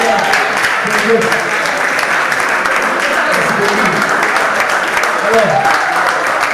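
Audience applause at an international arts festival event in France, steady and dense throughout, with voices and crowd murmur mixed in beneath the clapping.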